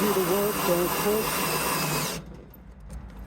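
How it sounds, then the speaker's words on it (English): Power drill slowly boring through a taped pinball cabinet playfield door on an AtGames Legends Pinball machine, a steady close whirring drone that runs for about two seconds and then cuts off abruptly. "Drill, do the work, don't push."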